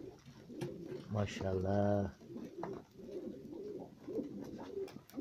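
Adana native diving pigeons coo in rhythmic bursts close by, with a loud run of pulsing coos in the middle and softer cooing throughout, while someone speaks over them.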